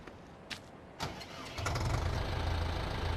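A tractor engine starting in Farming Simulator 15, a couple of cranking clicks followed by the motor catching and settling into a steady low idle.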